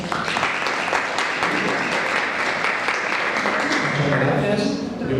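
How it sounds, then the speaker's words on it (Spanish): An audience at a spiritist conference in Seville breaks into sustained applause, a thick and lively wash of many hands clapping that carries on for several seconds with voices mixed in. "Un aplauso para los hermanos"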